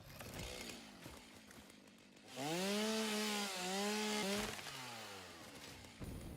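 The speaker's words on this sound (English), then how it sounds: "Give me the loud chainsaw, please." A loud chainsaw in the factory-building game Satisfactory revs up into a sustained, rising-and-falling harmonic whine over a few seconds before easing back down, alone without talk.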